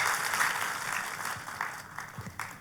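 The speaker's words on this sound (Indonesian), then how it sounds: "Kalau mau tepuk tangannya boleh yang paling meriah buat Yesus Tuhan kita." A church congregation applauds for Jesus during a sermon, a steady wash of many hands clapping. The clapping starts strong, then thins out, with a few louder claps near the end.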